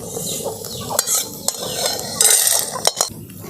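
Chana dal and peanuts fry in a pan while a spoon stirs them, giving a steady soft sizzle broken by sharp metallic scrapes and clinks of the spoon against the pan, close and clear with no talking.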